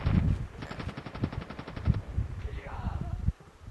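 Rapid automatic gunfire in the Call of Duty video game rattles in a fast burst near the start, then the game's action noise continues as a person talks over it.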